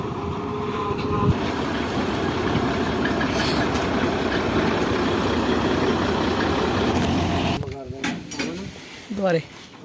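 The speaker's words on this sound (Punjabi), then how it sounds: "ਉਧਰ ਆ ਗਈ ਕੰਬਾਈਨ ਹੁਣ ਕਟਰ ਲਾਉਣਗੇ" A combine harvester working a rice paddy field gives a loud, continuous mechanical roar with a rattling drone. The roar drops off near the end as voices come in.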